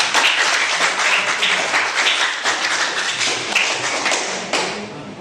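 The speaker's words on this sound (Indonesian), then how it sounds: "Tepuk tangan kita." Secondary-school class applauding after a group answers questions, loud continuous clapping from many hands filling the room, sustained throughout without speech.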